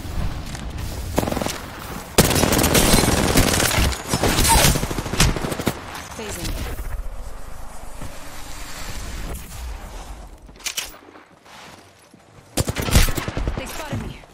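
A heavy Apex Legends firefight with bursts of automatic gunfire and scattered shots, loud at first, then thinning to quieter pops and game ambience before a final burst, with a voice talking in places.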